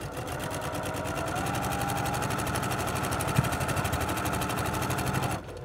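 A sewing machine stitches a quarter-inch seam attaching a quilt border, a close, steady rapid mechanical chatter running without pause, then stopping abruptly at the end, with no talk.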